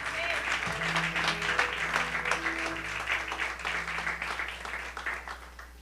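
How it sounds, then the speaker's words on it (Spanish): A church congregation claps in a sustained, dense burst of many hands that stays fairly loud and gradually thins toward the end, with voices and faint tones mixed underneath. "Dale esas palmas en esta hora."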